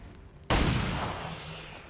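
A single pistol shot in the XCOM 2: War of the Chosen strategy game, a sharp loud crack followed by a long decaying reverberant tail, with no talking.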